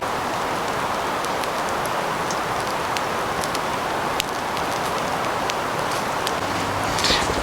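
Steady rain falls on a campsite during an elk hunt, a dense continuous hiss with scattered sharper drops and taps over several seconds and no voices.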